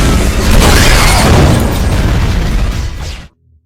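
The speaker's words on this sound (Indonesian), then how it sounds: "Steve malah menembak pistolnya ke arah mobil milik Bishop, yang membuat mobil Bishop meledak seketika." A car blown up by gunfire in a film: a loud, close explosion with a heavy roaring boom that rumbles for about three seconds, then cuts off abruptly to silence.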